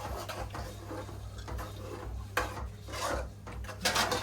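Tomatoes and spices being stirred in a cooking pot, repeated scraping and rubbing strokes of a utensil against the metal, close and irregular, with occasional knocks.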